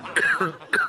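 A person coughs twice in quick succession, a harsh throaty cough up close, with a brief voiced rasp between the two bursts.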